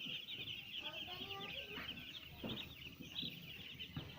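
Broiler chickens cluck and chirp together on a farm in Tuabo village, Mamuju, West Sulawesi. The sound is a faint, busy chatter of many birds over a steady hum.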